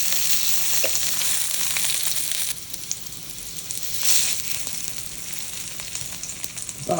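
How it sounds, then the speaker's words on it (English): Steady, busy sizzling of a hot dog frying in hot oil in an electric wok, with crackles and hissing throughout, close up and fairly loud. "It's definitely frying in that oil."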